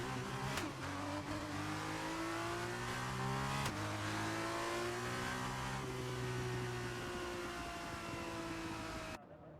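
Formula 2 race cars from the 2022 season in the F1 23 video game sit on the grid, their engines humming and revving loudly and continuously in layered tones, with one brief rise in pitch before cutting off near the end.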